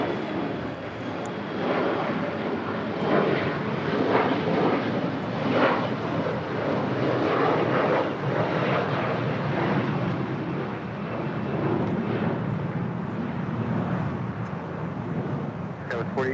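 A jet airliner takes off at LAX, giving a broad, steady roar of engine noise that holds throughout at a moderate distance. Faint radio chatter and background voices sit under the noise.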